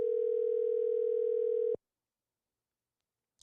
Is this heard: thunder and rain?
no